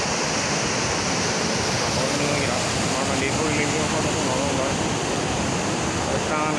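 Water rushing from the opened shutter of Peechi dam, a loud, continuous roar of churning water that fills the whole scene without a break, with no clear speech over it.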